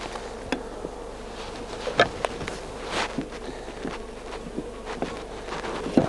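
Bees swarm during a transfer from a top-bar nuc into the hive, a continuous close buzzing with individual insects droning past, over a few faint knocks and taps of the hive bars.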